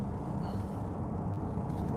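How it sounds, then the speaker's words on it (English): A steady, low, even rumble of wind and road noise heard from inside a moving Mercedes CLA 350 4Matic, quiet and constant with no talking. "Wind and road noise."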